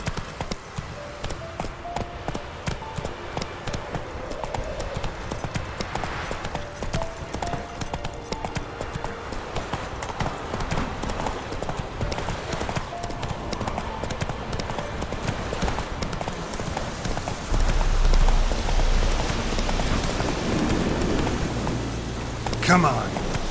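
A horse galloping in The Witcher 3, with a rapid, steady hoofbeat rhythm running throughout among game ambience, growing louder and fuller near the end.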